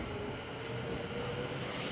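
Steady low rumble and hum from inside a moving passenger train on a one-hour journey, a constant rolling drone with faint high hiss and no clear voices.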